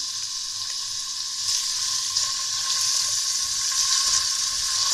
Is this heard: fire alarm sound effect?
no